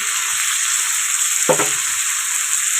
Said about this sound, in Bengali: একেবারে কালো জিরা ফোড়ন দিয়ে বসিয়ে দিচ্ছি